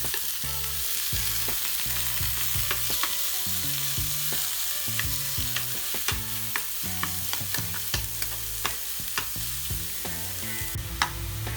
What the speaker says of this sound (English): So when you're frying the beef, you can kind of almost use the back of your spoon just to like break it down a little bit.